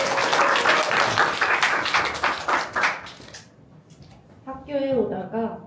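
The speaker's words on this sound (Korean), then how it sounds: "다시 한번 박수 부탁드릴게요." Audience applause at a literary evening marking writers' centenaries, loud dense clapping for about three seconds that fades out, followed by a voice beginning to read aloud.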